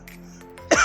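A single short, sharp cough bursts out at the very end from a person with a long-standing sore throat, close and fairly loud after a quiet moment.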